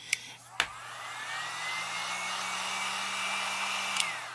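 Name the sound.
hair blow dryer drying clay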